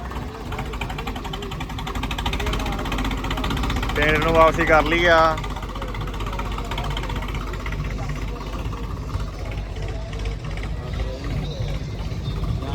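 A tractor's low engine drones steadily throughout while someone talks over it, the motor's rumble continuing beneath his voice.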